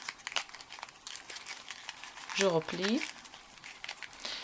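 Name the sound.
folding paper for an origami rose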